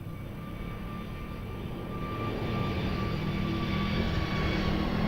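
Airliner taking off from runway 02 at Lisbon Airport, a distant broad jet roar that builds steadily and holds a low engine rumble with faint whine tones.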